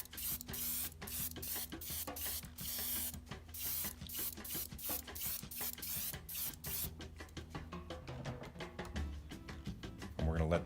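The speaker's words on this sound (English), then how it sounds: "So I'm spraying our flat on from a distance," Flat clear coat sprayed onto a model from a distance, heard as a rapid series of short hissing spray bursts, fairly quiet and close, with a faint steady hum beneath and a clunk at the end.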